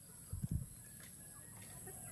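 A chicken gives two quick low clucks close by, then quiet background hum.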